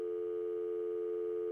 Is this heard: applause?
no